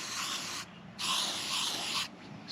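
Marker spray from an aerosol can hisses onto golf practice turf in two close bursts, the second longer, fairly faint with no talk.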